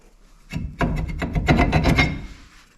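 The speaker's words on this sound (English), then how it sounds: "We should be able to pull our rotor off" Brake rotor on a 2003 GMC Sierra 4WD being worked free and pulled off the hub, a close series of scraping, rasping metal rubs and knocks over about two seconds, loud and without talk.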